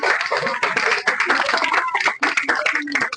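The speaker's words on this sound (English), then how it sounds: "Very good, clap." A classroom of students clapping their hands together, a dense, continuous burst of close, loud claps lasting a few seconds.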